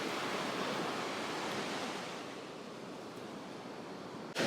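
Ocean waves washing onto a beach near a river entrance, a steady broad rushing surf that fades slightly halfway through, heard alone without any voices.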